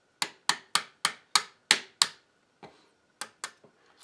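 A non-marring hammer taps a 5/32 punch against trigger group pins on a Remington 870 Tactical shotgun: seven sharp, evenly spaced metallic clicks, then a pause and several lighter, fading taps, close and crisp with no talk.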